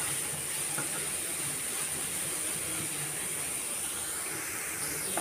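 Onions and green chilies sizzle in a hot pan with garlic and ginger for a Kerala mackerel dish, giving a steady, close, even hiss that runs unbroken throughout.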